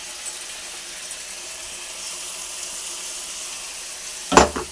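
Elephant foot yam frying with turmeric, salt and chilli, a steady soft sizzle running throughout, close and fairly quiet, with a brief louder clatter near the end.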